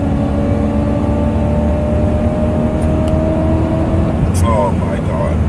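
A supercharged BMW E92 M3 pulling hard in fourth gear, a loud steady engine drone with rising whine heard from inside the car, continuous throughout with a voice speaking over it.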